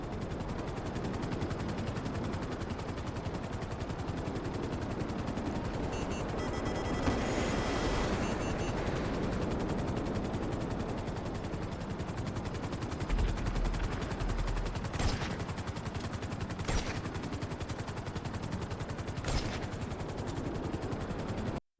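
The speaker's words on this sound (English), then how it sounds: "From a regular old helicopter, mind you, a regular old Frogger helicopter." A Frogger helicopter in GTA Online drones steadily, with bursts of gunfire and sharp sniper shots cracking over the rotor noise, no talking.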